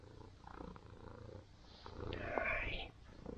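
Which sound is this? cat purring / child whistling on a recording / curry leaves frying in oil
cat purring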